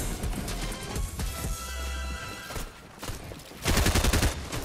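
Rapid bursts of video-game gunfire from Fortnite crackle in dense, loud volleys, pausing briefly midway before a heavier final barrage; no voices are heard.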